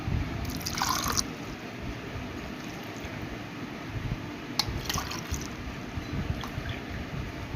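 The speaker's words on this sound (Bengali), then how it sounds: "এটা এমনি ঠান্ডা জল দিয়ে আমি ভিজিয়ে দেবো।" Cold water is poured to soak an orchid seedling, a continuous close trickle and splash with a few brighter drips and clinks standing out.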